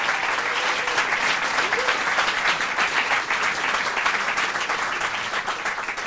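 A television studio audience bursts into sustained, dense applause, loud and even throughout with no pauses.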